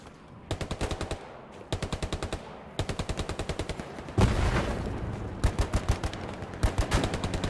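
Machine-gun fire in the Hell Let Loose WWII shooter, several rapid close bursts of about eight to twelve rounds each, separated by short pauses, with a louder blast and denser continuous firing in the second half; no talking.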